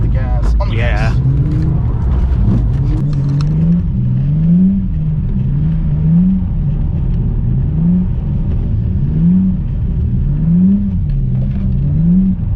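A Ford Falcon engine revs repeatedly while the car slides, a loud rumbling drone that swells and dips in a rhythmic pattern as the throttle is worked, with people shouting over it at the start.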